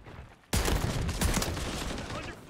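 Sustained, loud gunfire in Call of Duty Black Ops 6 bursts in abruptly after a quiet moment and keeps up as a dense close-range fusillade of overlapping shots to the end.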